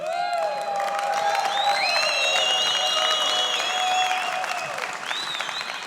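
An audience at a corporate presentation applauds steadily and fairly loudly, with a few whistles or cheers rising above the sustained clapping.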